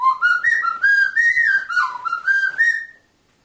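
A person whistles a lively melodic tune alone, the clear pitched phrases sliding and stepping up and down for about three seconds before stopping into silence.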